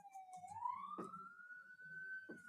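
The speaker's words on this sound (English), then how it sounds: "Okay, it's an ambulance going by." An ambulance siren wails as it passes, its pitch sliding up and holding steady, heard faintly at a distance with a few thumps underneath.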